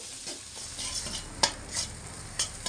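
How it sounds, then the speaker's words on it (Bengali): Spices sizzle and crackle in hot oil over low heat as a spoon stirs and scrapes the pan, a few sharp clinks standing out. "একদম লো আঁচে রেখে তিরিশ সেকেন্ড মতো নাড়াচাড়া করে নিয়েছি মশলাটা তো একটু ভাজা ভাজা হয়ে গেছে"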